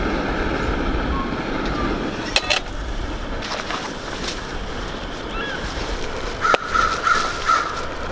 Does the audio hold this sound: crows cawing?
yes